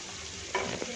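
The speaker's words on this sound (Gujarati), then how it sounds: "આ ગોટા જે આપણે તળી રહ્યા છે" Gota fritters frying in oil on the gas, a short burst of steady hiss and bubbling with a brief stir or clatter midway, close and without speech.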